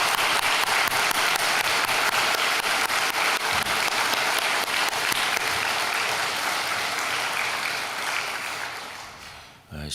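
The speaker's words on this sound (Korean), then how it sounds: "뜨거운 박수로 한번 격려해 주시기 바랍니다" A church congregation at a Korean early-morning prayer service gives warm applause, a dense, even roar of many hands that holds for most of the stretch before tapering off at the close.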